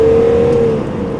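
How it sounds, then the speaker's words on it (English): A BMW E46 330CD diesel engine with over 200,000 miles revs briefly close by, a steady mid-pitched drone with a faint whine that eases off after about a second, with no talking. "It's the nicest diesel I've ever heard."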